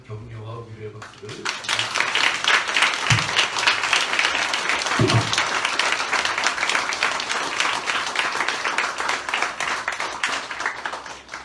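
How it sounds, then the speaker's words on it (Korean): A church congregation claps at a founding thanksgiving service as a new pastor is appointed, with dense, loud applause building after a brief spoken moment and continuing steadily before tapering off. "여러분 많은 격려와 위로의 박수를"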